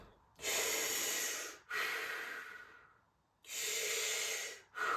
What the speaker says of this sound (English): you're gonna do these long, deep breaths.